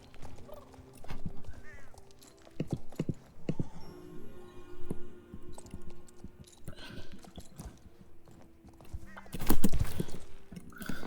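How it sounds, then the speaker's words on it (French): Horses in the video game Wildwoods, with hoof clip-clops and soft game ambience mixed with other animal calls, loudest in a burst near the end. "Les 2 chevaux là-bas."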